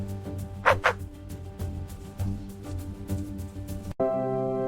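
A couple of short dog barks ring out over a backdrop of busy, tonal background sound, followed by a sudden shift to steady music.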